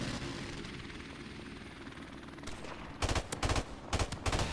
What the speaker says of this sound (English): Dude, I'm never used to, like, getting dang helicopters.